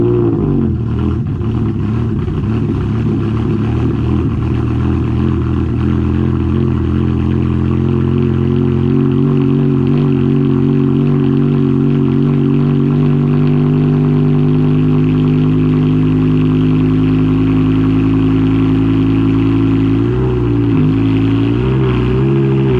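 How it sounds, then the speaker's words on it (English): BMW M5 engine cold starting, a loud steady mechanical roar with a strong low rumble, slight pitch shifts as the high cold idle settles, then a brief revving wobble near the end, no voices. "we'll go ahead and give you a M5 cold start"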